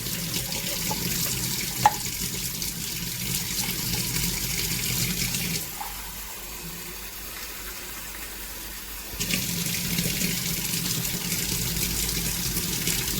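Tap water runs steadily into cups while milk is measured out for dough, a continuous splashing flow with a brief pause midway before the stream resumes.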